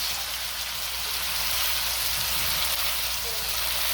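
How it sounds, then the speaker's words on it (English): Collard greens frying in a pan, a steady, even crackling sizzle like light rain, holding constant throughout at close range with no pauses. "Listen to them collards fry"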